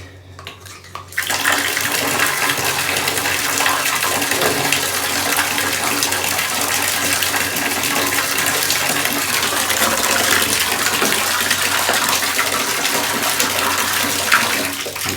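Water gushes into a bucket, starting after a brief quiet second and then pouring as a steady, loud, close rush for the rest of the clip.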